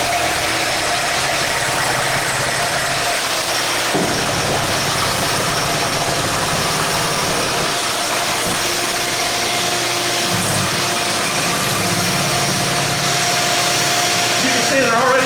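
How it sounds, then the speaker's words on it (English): A mixer whips eggs with a half cup of sugar toward soft peaks, giving a steady, loud motor whir that drones on without pause for the whole stretch. "we're going to whip these up to where they have soft peaks"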